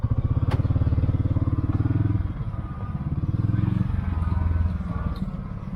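A utility vehicle descends a rocky hill in low gear and two-wheel drive, over ruts, rocks and loose shale. The engine chugs low and steady throughout, with occasional clatter and thumps from the rough ground, close by.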